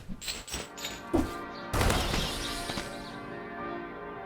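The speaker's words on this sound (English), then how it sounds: "In the background, you can hear the bells from Washington churches on this Easter Sunday" Church bells from Washington churches ring on Easter Sunday, loud metallic clangs and overlapping resonant peals that swell, then sustain and fade in a broad ringing wash, heard alone without talking.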